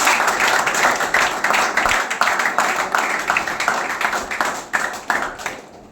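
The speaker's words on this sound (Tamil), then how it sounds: "ரெண்டு பேருக்குமே வந்து ஒரு உற்சாகமான ஒரு கைத்தட்டலை கொடுத்தாங்க" An audience at a free computer course event in Valasaravakkam gives enthusiastic applause: dense, close clapping that runs steadily and then thins and fades toward the end.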